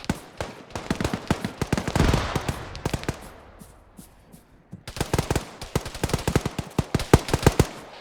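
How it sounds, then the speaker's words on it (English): Friendly gunfire overhead in ArmA 3: rapid bursts of sharp machine-gun shots, loud and close, pausing midway and then resuming in a long rattling string. "I've got friendly shooting on over the top of us, from us southwest."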